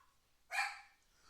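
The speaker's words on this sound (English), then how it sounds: "That you hear my dog? Yeah. That's my dog." A dog gives one short, faint bark at a distance, a single brief burst against an otherwise quiet background.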